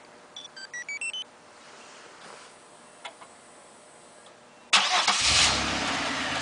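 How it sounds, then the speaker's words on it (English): A car with a Viper remote start system gives several short electronic chirps and a couple of faint clicks, then the engine cranks and catches into a loud, steady idle. "Remote start."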